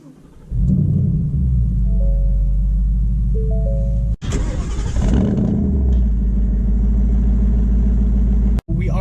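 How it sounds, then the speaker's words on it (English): A 2018 Ford Mustang GT's V8 rumbles steadily while driving, loud and close, with a low throbbing drone, a brief revving surge midway and short breaks, and no talk over it. "But first impressions, that engine sounds absolutely amazing"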